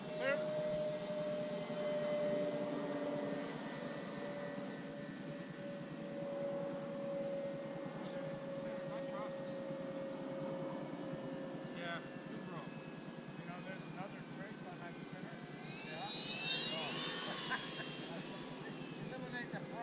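An FMS Sbach 342 radio-controlled aerobatic airplane on landing approach gives a steady, fairly distant motor whine that holds throughout, with people talking nearby and outdoor background noise.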